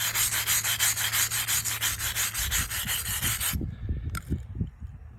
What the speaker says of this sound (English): So you're not scraping it out of the crack, you're helping it stay in, and you're just getting all the excess off.